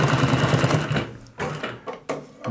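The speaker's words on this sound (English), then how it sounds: "Now this seam here, this is nine layers coming up." A GC20606 industrial high-lift compound-feed walking foot sewing machine stitches through a nine-layer seam, a loud close rapid mechanical clatter that runs steadily, then stops and restarts in short bursts.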